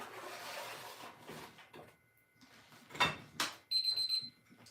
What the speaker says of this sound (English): Oh, I heard the timer.